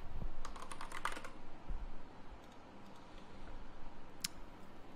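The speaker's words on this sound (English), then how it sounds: "Let's just type in a password just in case here." A password goes in on a computer keyboard as quick bursts of soft, close key clicks, a rapid flurry followed by scattered single taps in a quiet room.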